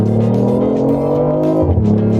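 A BMW i8 hybrid sports car of 360 hp accelerates hard from a standstill toward 100 km/h, its loud engine note rising steadily inside the cabin, then dipping briefly at a gear change before climbing again.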